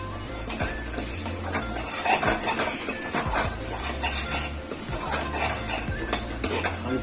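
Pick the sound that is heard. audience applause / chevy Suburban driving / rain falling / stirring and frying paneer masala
stirring and frying paneer masala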